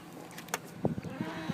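The trunk latch of a 2004 Ford Crown Victoria Police Interceptor releases: a quiet click and then a few soft, dull thumps as the lid pops up, close by and alone.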